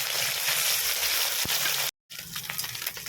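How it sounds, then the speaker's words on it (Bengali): Mourala fish frying in hot oil, a steady close broadband sizzle with crackling pops, briefly cut to silence near the middle before the sizzle resumes. "বাকি মাছগুলোকে একইভাবে ভেজে নিচ্ছি।"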